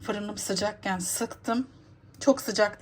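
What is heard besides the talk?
No everyday noise stands out behind the speech.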